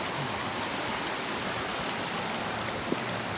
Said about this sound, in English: this is the Spring Creek, and we're just going to come down here and we're going to get some water.